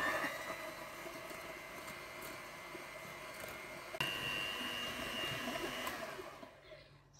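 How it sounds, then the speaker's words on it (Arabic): Brown and white sugar mixed together with an electric mixer, a steady whirring motor drone running throughout and stopping near the end. "دلوقتي هنخلطهم سوا."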